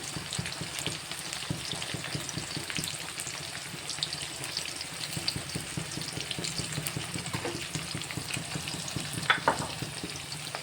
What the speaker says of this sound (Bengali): লবণটা দেওয়ার পর পেঁয়াজটাকে লাল করে ভেজে নেব।